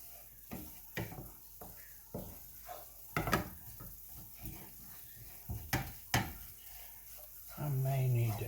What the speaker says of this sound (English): the reason you do a roux with the flour is because you want to cook the flour taste out